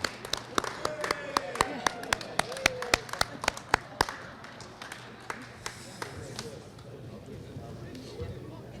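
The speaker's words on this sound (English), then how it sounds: "we could offer one more round of applause for everyone who earned something today" Graduates are applauded at a prison education awards ceremony at MCF-Rush City, with sharp, fairly regular hand claps ringing out for about four seconds before thinning into a few scattered claps against room murmur.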